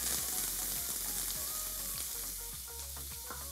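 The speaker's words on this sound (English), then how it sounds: "My pan's already searing hot, and add some of the peppers." Peppers hit a searing hot skillet slicked with canola oil, giving off a loud, continuous sizzle and crackle with bursts of spattering, close up and with no one talking.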